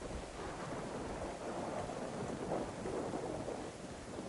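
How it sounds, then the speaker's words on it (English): Thunderstorm in the PS5 survival game DayZ on the Chernarus map: steady, dense rumbling of thunder and heavy rain, with no voices. "That storm is not joking, dude."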